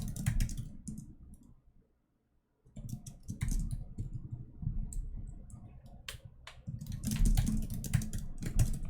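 Computer keyboard typing, bursts of quick soft key clicks close by, pausing briefly to near silence before resuming in uneven runs, with no voices.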